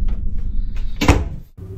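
A single heavy knock lands about midway through, loud and close, in an otherwise quiet room. It is one of the frequent knockings in a reportedly haunted home.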